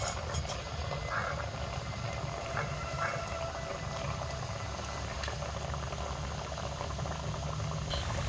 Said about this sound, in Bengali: এবার আমি তেলের মধ্যে একটা মোগলাই পরোটা দিয়ে দিচ্ছি